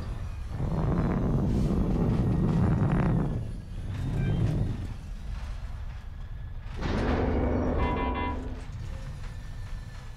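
A fixed-wing airplane in the video game Call of Duty: Infinite Warfare drones steadily with a broad engine roar that swells, dips and returns over several seconds, with faint electronic beeps near the end.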